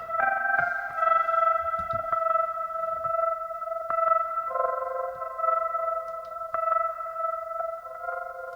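Rhodes electric piano chords played slowly with a fast, shimmering tremolo wobbling the notes, moderately quiet and alone.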